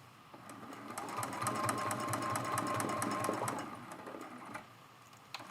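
A sewing machine stitches steadily at moderate volume while working a mug rug, sewing back over areas already stitched in the letters, then slows and quiets toward the end.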